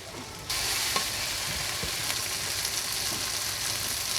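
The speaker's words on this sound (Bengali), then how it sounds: "কাঁচামরিচ, পেঁয়াজ, রসুন ভালোভাবে ভেজে নিচ্ছি।" Green chilies, onion and garlic fry with garlic, ginger and cumin pastes for chicken khichuri, a loud, continuous close sizzle that bursts in suddenly and holds steady, with occasional stirring scrapes.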